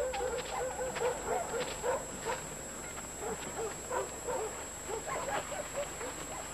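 A dog whimpers and yips repeatedly in short, high-pitched bursts, fairly close, with a steady background hum.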